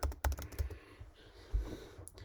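Close computer keyboard typing in a quick, uneven run of clacking keystrokes that pauses briefly before a final few taps, with no voices.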